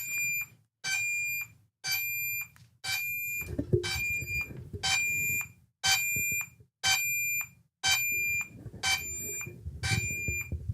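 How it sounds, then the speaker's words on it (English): A DJI Mini 5 Pro drone's find-my-drone locator sounds a shrill, regular beep about once per second, ten pulses in a row, with rustling movement underneath some of them and no voices. "Enable flashing and beep."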